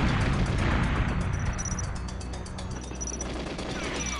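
Rapid gunfire and a booming grenade explosion from the N64 game GoldenEye, loud and continuous with dense bursts of shots and rumbling blasts throughout.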